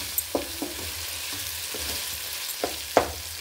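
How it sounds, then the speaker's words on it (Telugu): Vegetables for veg biryani stirred and frying in a pan, a low steady sizzle broken by a handful of sharp scraping strokes of a spoon at uneven intervals, close and fairly quiet with no talking. "మొత్తం కలిసే వరకు తిప్పుదామండి."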